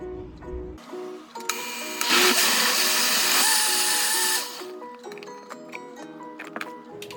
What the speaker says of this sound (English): All right, now time to blend the sauce.